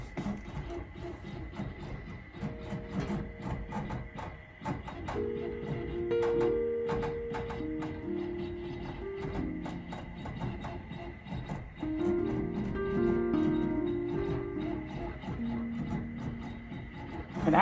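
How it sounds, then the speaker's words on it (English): An embroidery machine stitching a design on a cap hoop frame, giving a fast, continuous mechanical chatter with steady whirring and shifting motor tones as the frame moves. "So I'm going to stitch first, and it's going to move along the frame."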